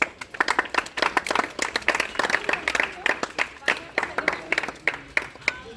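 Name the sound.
applause at Independence Day school ceremony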